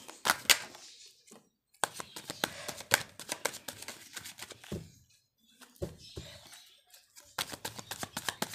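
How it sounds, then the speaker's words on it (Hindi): Tarot cards are shuffled in several short riffling bursts separated by quiet gaps, crisp and close-up, with no voice over them. "चलो हम कार्ड शफल करते हैं"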